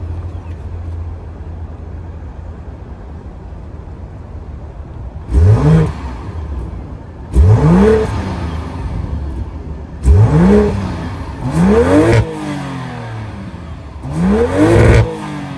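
A 2025 BMW X7 40i's 3-liter B58 twin-scroll turbo inline-six revs up four times from a steady idle, each sharp climb and fall standing out clearly and close with no talking.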